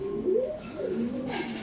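Racing pigeons coo softly at their home loft, a low continuous warbling that runs throughout with no one speaking.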